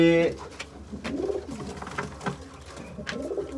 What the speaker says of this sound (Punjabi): ਇਹ ਆਪਣਾ ਹਜ਼ਾਰ ਵਾਲਾ ਜਿਹੜਾ ਵੱਡਾ ਕਬੂਤਰ ਆ ਬਈ